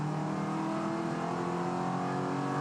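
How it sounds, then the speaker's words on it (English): V8 Ute race car at Sandown accelerating hard up the back straight and shifting through the gears. A loud, steady engine roar with the pitch climbing and dropping at each shift, close by and continuous. "Dontas ripping through the gears up the back straight."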